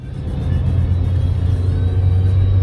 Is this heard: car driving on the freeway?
yes